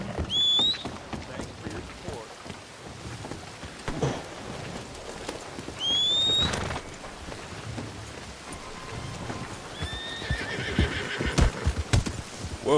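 Horse in a video game whinnies sharply several times over quick hoofbeats and a light rain-like patter, close and fairly loud, with a few brief bursts of player chatter mixed in.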